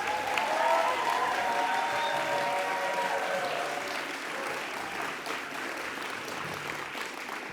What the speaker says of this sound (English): I think she deserves a really big round of applause.